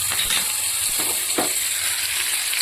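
Mustard and cumin seeds sizzle in hot oil as a tempering for jowar dhokla: a dense, loud, continuous hiss with a few soft crackles, close up and with no voices.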